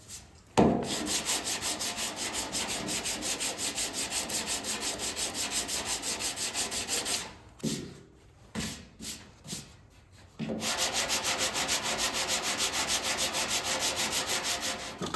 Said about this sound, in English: The block's plenty long to block where we were needing out for the initial sanding.